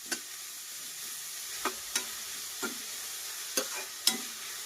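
Vegetables stir-fry in hot oil for veg fried rice, a quiet continuous sizzle broken by about six sharp spatula scrapes and clinks against the pan.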